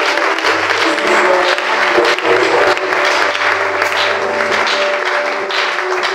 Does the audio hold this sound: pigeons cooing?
no